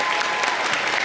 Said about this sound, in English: let's give one more round of applause for these great middle school students